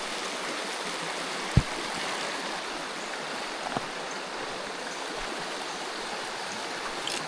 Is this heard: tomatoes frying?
no